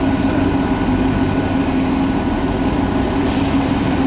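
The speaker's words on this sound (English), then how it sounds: "Goddamn loud ass bus." A loud bus engine roars past on a street, a heavy continuous low rumble with a brief hiss near the end, steady and close throughout.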